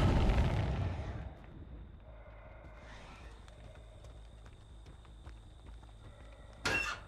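A loud, dense explosion burst opens in the Dead by Daylight video game, then fades into a lower rumbling bed with faint tones, and a brief sharp crack comes near the end.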